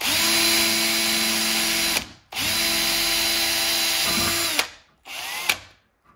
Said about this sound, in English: and drill this hole.